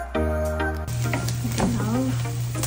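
Garlic and onion sizzle in a frying pan, a steady close crackle with stirring scrapes, a brief tonal sound near the start and no talking.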